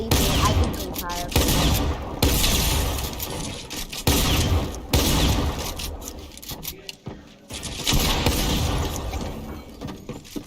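Gunfire in Fortnite: repeated bursts of rapid shots in clusters, loud and close, with short gaps between volleys and some faint background sounds.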